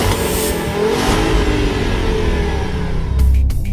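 Engine of a 2010 Audi TT-S roadster starting up and revving, a steady loud mid-range drone that swells near the end, heard alone without talk.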